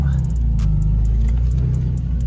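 A Nissan 350Z / Infiniti G35 with a front wheel hub bearing fault pulls off a driveway, its engine a steady, loud low rumble heard from inside the car with faint ticks and clicks above it.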